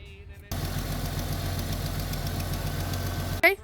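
A Jeep 4.0 inline-six engine idles steadily up close, a low even rumble with a faint rhythmic knock, running alone for a few seconds before a short clatter at the end.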